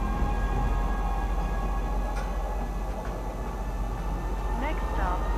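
A train arriving in the Star Citizen video game makes a steady, close rolling rumble throughout, with a few brief tonal blips near the end.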